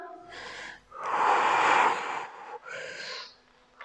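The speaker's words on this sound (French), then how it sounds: "Je vous entends souffler, c'est bien." Heavy breathing during a HIIT workout at home, with several loud forceful exhalations and gasps up close, each blown out in a separate burst with short pauses between.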